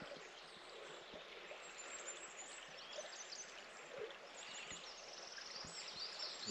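A fast, clear stream runs steadily at a tarp and bivvy camp, its broad continuous babble and trickle filling the scene at moderate level with no speech.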